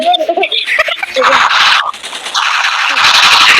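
Rapid bursts of automatic gunfire in a shooting video game, with loud sustained sprays interrupted by brief pauses, heard under excited talking.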